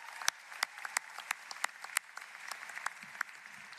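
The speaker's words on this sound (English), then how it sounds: "how about another round of applause for our a cappella singers" Scattered, sparse clapping at a university commencement ceremony for a cappella singers, a handful of distinct claps spaced irregularly and fairly faint, with no talk over them.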